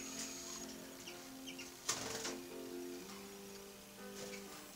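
Roller canaries in a bird room sing steady, layered warbling trills, with a brief rustle of flapping wings partway through and a constant low background hum.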